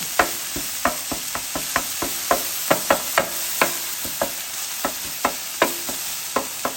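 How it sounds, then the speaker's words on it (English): Sharp metal scrapes and taps of a spatula chopping burger meat on a hot Blackstone 17-inch griddle, repeated in an irregular quick rhythm over a steady sizzle, close and fairly loud. "I'm just going to stop chopping this burger up"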